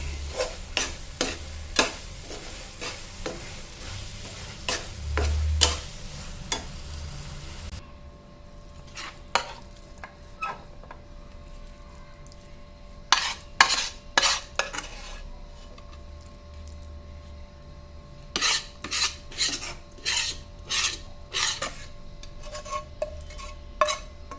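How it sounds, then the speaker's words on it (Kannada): Pumpkin halwa being stirred in a pan, heard as bursts of scraping and clinking from a spoon against the metal, repeated in short rhythmic runs over a low, steady background. "ನಾನು ಇನ್ನೊಂದು ಸ್ವಲ್ಪ ತಿರುವಾತೀನಿ ನೋಡಿ"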